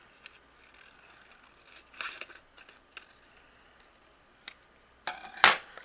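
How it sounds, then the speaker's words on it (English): Scissors cut through vellum along the curve of a paper angel wing, a few sharp snips and crisp slicing rasps spaced apart, ending in a louder final cut, close and without speech. "I'm going to use my scissors, and I'm just going to follow the curve of my wing."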